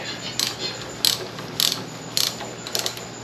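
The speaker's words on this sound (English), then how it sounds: "I'm just going to put a wee bit of torque on them." Ratchet wrench snugging bolts on a 1936 Austin Seven engine during a rebuild, five or six short clicking bursts in a steady rhythm, close up with no talk.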